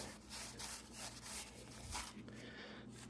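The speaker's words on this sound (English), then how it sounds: "I've got the head surface cleaned up the piston a bit and the valves just with a roll-lock disc" A roll-lock disc scrubs the head surface and piston of an old mower engine, giving a faint, continuous rough grinding and rubbing with uneven strokes.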